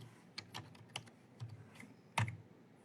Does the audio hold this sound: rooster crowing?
no